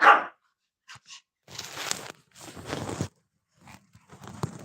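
A dog barks loudly and close at first, then comes a short series of quieter barks and yelps spread over several seconds, with a few brief gaps of silence between them.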